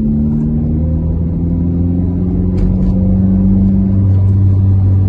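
A car with a full-system exhaust idles and rumbles steadily up close, a smooth low drone with a gentle rise in pitch toward the end and no talking.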